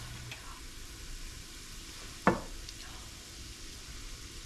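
A roux of flour and fat being stirred in a pot on the stove, a soft steady sizzle and scrape running throughout with one sharp spoon knock against the pot partway through.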